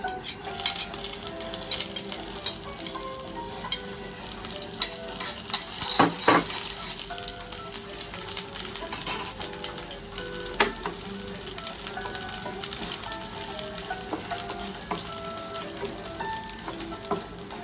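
Onion fries in olive oil in a hot pan, a constant crackling sizzle with occasional utensil clinks and stirring knocks, and no talking.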